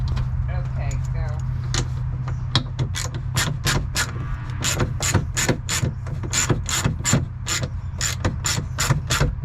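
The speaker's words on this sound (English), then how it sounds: "In this one I'm using a 1/2 inch socket" A hand ratchet fitted with a 1/2 inch socket tightens a Rhino-Rack roof rack bolt on a two-door Jeep Wrangler JL, giving a steady run of sharp, close clicks that speeds up into a regular rhythm over a low hum.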